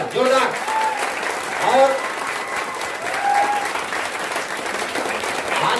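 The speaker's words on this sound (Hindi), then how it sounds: "दोस्तों, मैं चाहूंगा कि एक बार सर के लिए जोरदार तालियां, जोरदार।" Applause rises from a seated audience at a motivational business seminar, a steady wash of clapping with voices and cheers calling over it, swelling briefly midway.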